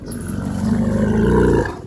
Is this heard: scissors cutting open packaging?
no